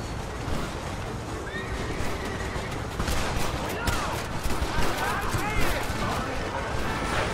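A horse whinnies amid a busy Red Dead Redemption game soundscape on PS3, with bursts of gunfire and a voice talking over the noise.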